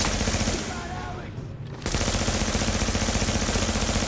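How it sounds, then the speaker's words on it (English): Gunfire from a semi-automatic weapon in The Division, loud and continuous, with dense repeated shots that ease briefly before resuming at full strength; speech is faintly present underneath. "They're getting closer, so I might switch weapon here. Semi-automatic."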